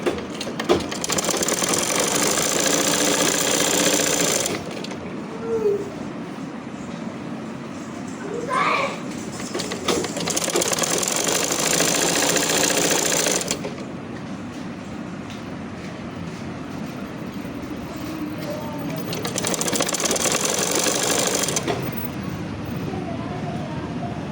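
A sewing machine stitches a shalwar in three separate bursts of fast, whirring stitching, each lasting a few seconds, with quieter pauses between the runs.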